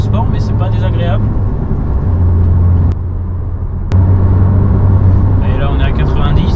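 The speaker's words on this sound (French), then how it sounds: "On a quand même un bruit présent dans l'habitacle ou même à l'échappement, je pense." A sports car's engine and exhaust hum steadily while it drives at about 90 km/h on an ordinary road, a low droning note that shifts in pitch. Someone talks over it for most of the time.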